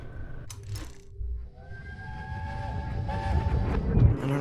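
A train in the video game We Happy Few rumbles and clatters steadily, with a faint metallic jingle near the start and a sustained whistle-like tone, the low rolling noise building toward the end.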